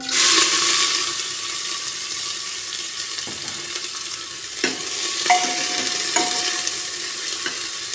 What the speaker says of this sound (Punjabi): ਤੇਲ ਜਿਹੜਾ ਉਹ ਸਾਡਾ ਗਰਮ ਹੋ ਗਿਆ ਵਾ ਤੇ ਆਪਾਂ ਵਿੱਚ ਪਾਵਾਂਗੇ ਪਿਆਜ਼